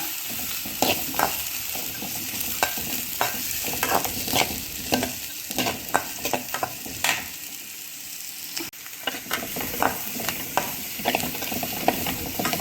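Chopped ingredients with cumin sautéing in butter for butter garlic drumstick leaves, a soft continuous sizzle broken by frequent scraping taps of a spoon stirring the pan.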